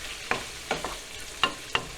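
Shrimp hitting a hot pan for Cajun shrimp and sausage pasta, a soft continuous sizzle with four or five quick stirring scrapes and clicks, close and moderately quiet.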